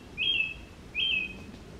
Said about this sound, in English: The most amazing birds are calling.